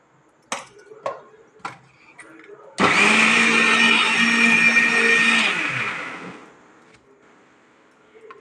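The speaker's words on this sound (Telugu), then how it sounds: "మిక్సీకి వేసుకున్న తర్వాత కొంచెం ఉప్పు వేసుకుని మళ్ళీ మిక్సీ తిప్పుకోవాలి" A mixer grinder whirs loudly for about three seconds while blending mint chutney with salt, preceded by a few sharp clinks of the jar and lid, then winds down to quiet.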